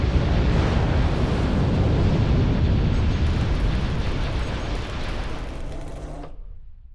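Star destroyer batteries in Sins of a Solar Empire pound away in a dense, continuous roar of blasts and ship explosions, loud and sustained for several seconds before cutting off abruptly.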